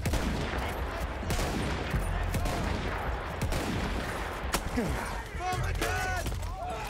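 Dense, continuous gunfire and machine-gun bursts from a Battlefield 1 campaign battle, rattling steadily for the whole stretch with a muffled voice murmuring underneath.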